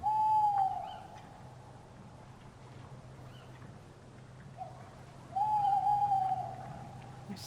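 Two separate owl hoots, one at the start and another several seconds later, both clear and tonal over a low, steady background hum.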